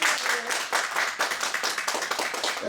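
A church congregation clapping together during a worship service, dense continuous hand claps with an uneven rhythm that swells and eases, fairly near and loud.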